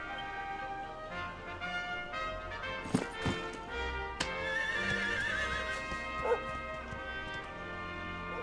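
A horse in Dragon Quest XI neighs loudly over a sustained orchestral music bed, with a few clip-clop hoof hits and a sharp whinny in the middle.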